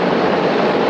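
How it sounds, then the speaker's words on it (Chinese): A Chinook transport helicopter and Black Hawk military helicopters fly overhead in formation above the Presidential Office, a dense, steady engine and rotor roar that stays loud throughout the brief moment. "由契努克运输直升机吊挂，连同两架黑鹰直升机组成国旗小队，飞越总统府上空"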